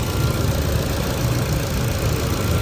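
A Ford car engine idles steadily nearby after starting, a constant low rumble with a slight uneven pulse and no voices.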